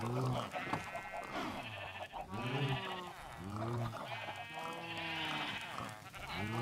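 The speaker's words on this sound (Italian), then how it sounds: "A volte qua le pecore escono, eh." Sheep in Minecraft bleat repeatedly, several wavering baa calls in a row at moderate volume, with a person talking quietly underneath.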